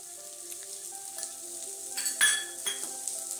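Chana dal lands in hot oil with spices and sizzles, rising to louder bursts of crackling as it is stirred, with clinks of a utensil against the pan and faint background music.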